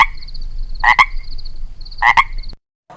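A frog croaks loudly and close by, giving two sharp double-pulsed croaks over a steady high trill, and then the sound cuts off abruptly.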